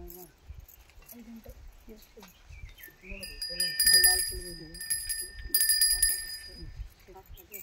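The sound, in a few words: puja hand bell ringing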